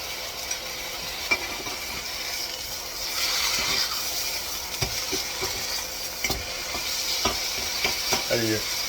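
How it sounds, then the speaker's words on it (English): Two forks separate thawing thick-cut bacon, making soft scraping and scattered metallic clicks over a faint continuous sizzle. Several sharper taps come near the end and no one speaks. "Take two forks to separate the bacon."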